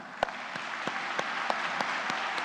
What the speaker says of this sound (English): For many of you, applause will be an appropriate response.